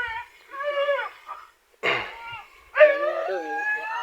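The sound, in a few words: dog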